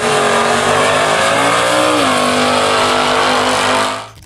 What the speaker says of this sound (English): Number 9, the 1974 Pontiac Firebird Trans Am Superduty